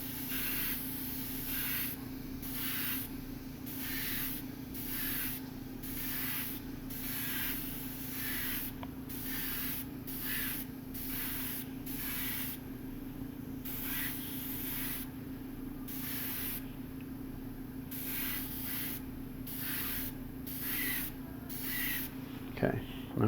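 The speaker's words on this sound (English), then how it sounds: "So my airbrush is off camera here." Airbrush spraying paint onto a portrait, repeated short hissing bursts of spray in an irregular rhythm over a constant low hum, moderately close, with a person talking at times.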